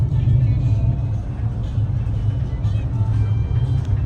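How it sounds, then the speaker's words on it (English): A truck on the road to South Carolina drives along with a loud, steady low rumble and engine drone, rattling throughout from start to finish with no pause. "The rattling of this truck is so loud."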